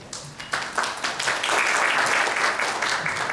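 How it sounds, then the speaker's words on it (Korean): A Korean geriatric medicine society lecture audience applauds a heart failure speaker, scattered claps building into steady sustained clapping across the hall. "박수 부탁드립니다"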